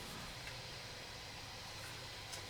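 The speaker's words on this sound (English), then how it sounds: "You hear like that fan in the background. That's my computer rendering a video." A computer fan whirs steadily while rendering a video, a faint, even broadband hiss with nothing else over it.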